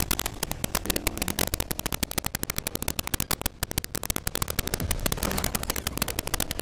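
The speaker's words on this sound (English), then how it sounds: "I swear I heard shooting down here" Rapid bursts of gunfire from a Fortnite match crackle almost nonstop, dense overlapping shots at varying distances with no talking.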